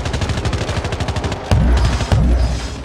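Rapid automatic gunfire from a weapon in Call of Duty Mobile's zombie mode, a steady burst of close, loud shots for about a second and a half, then heavier booming blasts.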